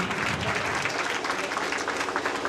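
Audience applause fills a motivational seminar hall: dense, steady clapping from a large crowd, loud and continuous throughout with no pauses.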